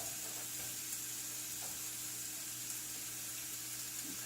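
Burger patties sizzling on a barbecue grill, a steady even hiss of frying fat that holds without pause, close and moderately quiet, with no talking.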